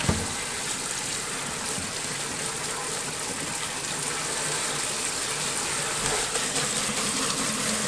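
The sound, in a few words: running cold tap water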